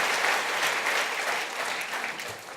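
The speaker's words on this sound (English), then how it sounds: "Well, I think that deserves a round of applause." Audience applause at a technology keynote, loud and close, a full burst of many people clapping that stays dense and fades slightly toward the end.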